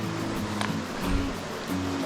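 Stream water flowing during a river crossing near Lake Monowai, a close, steady rushing and splashing babble with no talk.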